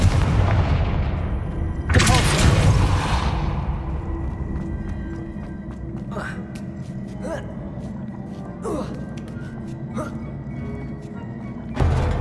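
A Confringo spell explodes in the Hogwarts Legacy video game with a loud booming blast near the start. Scattered crackles and thuds follow over a low ambient rumble.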